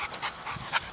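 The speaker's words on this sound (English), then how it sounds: "there's another dog" Dog panting in quick, breathy bursts, close and moderately loud, with no talking over it.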